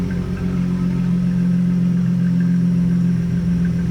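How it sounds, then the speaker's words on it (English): A 1999 Plymouth Prowler with a 3.5-liter V6 idling, heard from behind the car as a steady, loud low rumble with an even, unchanging hum and no talking. "A little rumble coming out of that V6 underneath the hood."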